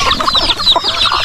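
Several chickens cluck and squawk in quick, overlapping bursts on a coconut-farm homestead, loud and close, with no talking.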